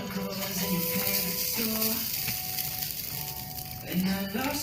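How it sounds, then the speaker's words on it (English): Grated coconut sizzles and crackles steadily as it roasts in a hot pan for a Mangalorean prawn curry, a continuous close frying hiss with faint stirring scrapes and a low background hum. "Now to the pan we'll be adding grated coconut."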